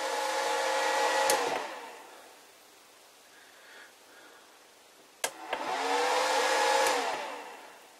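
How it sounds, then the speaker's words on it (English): The small cooling fan of a cheap Chinese variable frequency drive whirs loudly near the mic, fades to a quiet lull, then surges back up after a couple of sharp clicks, with a rising-then-falling pitch. "And if you put your hand in front of the fan, it speeds up."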